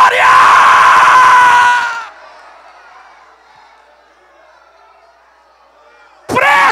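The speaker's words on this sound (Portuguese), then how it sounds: "Quem é curado dá um grito de glória." A church congregation lets out a loud shouted cry of glory, a dense burst of many voices lasting about two seconds, then fading into quieter murmuring before another loud burst at the end.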